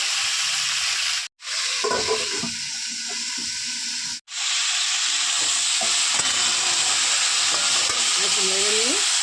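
Mixed vegetables frying in a pan, a constant close hiss of sizzling oil broken by stirring scrapes, with two short gaps of silence, no speech.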